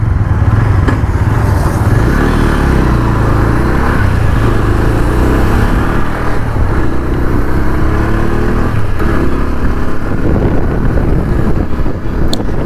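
A 2025 Bajaj Pulsar N125 BS7 motorcycle runs on a test ride, its engine droning steadily under heavy wind buffeting on the microphone, with slight rises and falls in revs and no talking.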